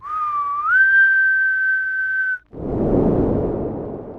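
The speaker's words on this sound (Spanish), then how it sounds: "de repente, escuché un silbido humano." A person whistles one sustained note that bends upward and holds steady for about two seconds, then a rushing, noisy whoosh takes over.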